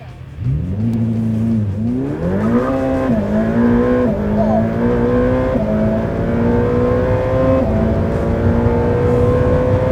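A Ferrari F8 Tributo accelerates hard in a drag race, a loud close engine roar climbing steadily through quick gear shifts, heard from inside the car.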